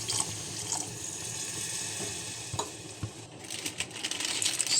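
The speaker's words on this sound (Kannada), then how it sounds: "ಸೊ ಈಗ ನೀರು ಹಾಕ್ತಿದ್ದೀನಿ." Water splashes and gurgles as it is poured into a pot for cooking Maggi noodles, a continuous close stream with a few soft knocks and clatters.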